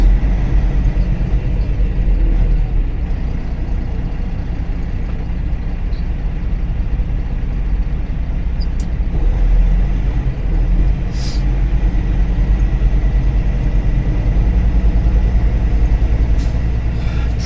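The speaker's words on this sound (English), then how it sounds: "Traffic for miles and miles and miles." Heavy road traffic in Decatur, Georgia rumbles steadily from inside a truck cab, a constant low engine and road drone with faint occasional hisses and clicks, continuous and unbroken with no talking.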